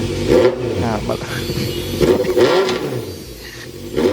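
A Honda CB650 motorcycle fitted with a 60mm AR Racing muffler revs in bursts, its exhaust note rising and falling close by, with someone talking over parts of it.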